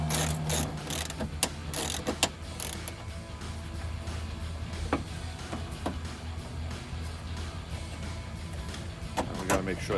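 The top bolt on a replacement headlight for a 2004-2008 Ford F-150 being tightened with a ratchet: a run of quick close clicks at the start, then scattered clicks under a steady background hum.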